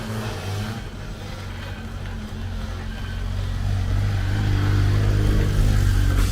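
A Fiat Uno engine revs steadily right after a carburetor repair, a loud, close, continuous rumble that builds slightly toward the end with no talking over it.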